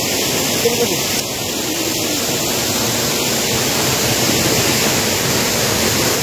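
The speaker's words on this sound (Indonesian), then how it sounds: "Kita bersama Pak Mantri berkunjung ke air terjun Pungbunga." The Pungbunga waterfall roars in a steady, loud broadband rush that fills the whole stretch without a break, close by and unchanging.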